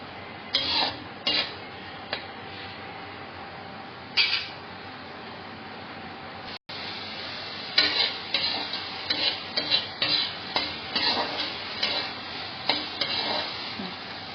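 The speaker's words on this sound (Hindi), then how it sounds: "दो मिनट इन्हें सौटे करेंगे ताकि इनका थोड़ा सा कच्चापन दूर हो जाए" Peas sauté in a pan with soft, intermittent sizzling and the clicks and scrapes of a spoon stirring against the metal, quiet with brief louder clatters.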